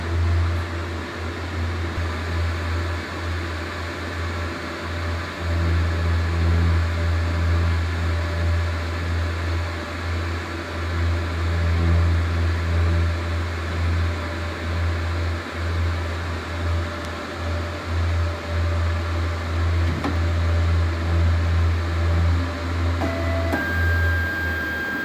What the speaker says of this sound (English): Initializing the carriage upon boot up with the rotary attachment plugged in.